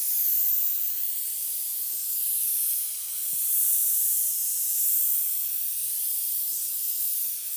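An airless sprayer hisses steadily while spraying exterior paint on a house, a continuous close, bright spray with gentle swells in loudness and no talk.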